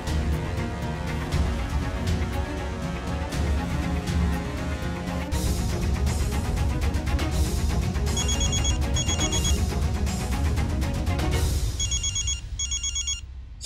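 A phone rings over a loud, dense music score in a Hindi TV drama, a repeating electronic ringtone chirping in bursts under the music with no speech.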